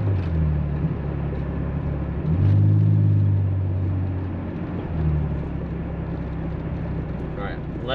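Nissan 300ZX Z32 engine rumbling inside the car with the driver off the gas, revs swelling briefly then settling back to a steady low drone, loud and close.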